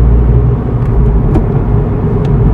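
A Suzuki Swift Sport with a six-speed manual gearbox accelerates in fifth gear, a loud, close, steady low engine rumble inside the cabin with no break.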